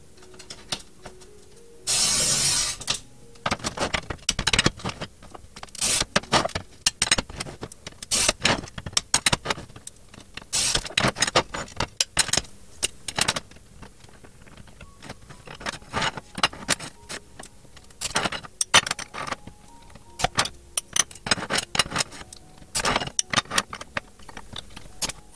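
Scoring and snapping lengths from a sheet of glass cut against a 3 cm guide for a fused glass display stand, with scattered sharp ticks, taps and clicks in irregular clusters, close and fairly quiet.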